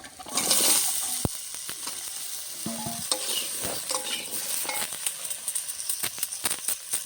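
Eggplant and flat beans drop into potatoes frying in a pan, setting off a sizzle that swells and then settles, with the clatter and scrape of stirring close by.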